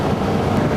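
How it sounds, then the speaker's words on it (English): Strong wind on the UK coast, a steady dense roar blasting across the microphone with no letup and no voices. "Very windy."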